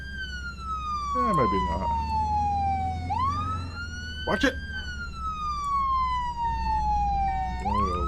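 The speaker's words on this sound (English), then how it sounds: "Now our siren. That might be a little loud." An ambulance siren in the video game Flashing Lights wails in long, loud sweeping tones over a low engine hum, with a short burst of horn-like yelps between sweeps while someone talks briefly over it.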